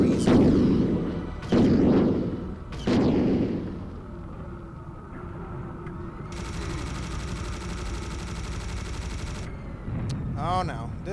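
Cannon fire in the video game Serious Sam Classics: Revolution, with three heavy booming blasts early on followed by a sustained rumbling roar and a brief mechanical whine near the end, close and loud.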